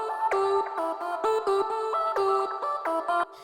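Synth lead melody from an electronic music production project, bright plucky notes in a quick rhythmic pattern with short gaps, loud and clear with no voices.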